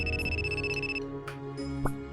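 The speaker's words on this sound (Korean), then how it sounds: "전화." A phone rings in Trickcal as a short electronic tone that repeats in bursts over quiet game music, with no talk.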